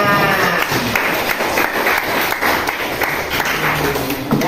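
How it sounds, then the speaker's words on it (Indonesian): A high-school class bursts into dense, continuous applause for a student, loud and close-filling, with many hands clapping at once and no clear voices over it. "Kita beri tepuk tangan."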